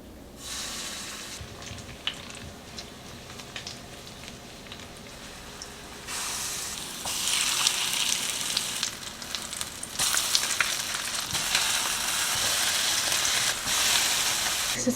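Vegetable burger patties frying in a pan on a stove crackle and sizzle close up, with the hiss swelling louder in bursts as patties are added and crisp spitting pops running throughout.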